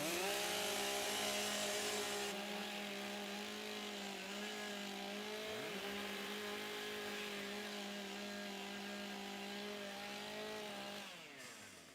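Several chainsaws idle and rev together before a timbersports race at the Australian Pro Championship, a loud layered whine of engines holding steady pitches with one dipping briefly, fading somewhat at the end.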